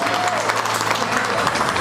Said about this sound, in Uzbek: va Lutfullo juftligiga olqishlarimiz.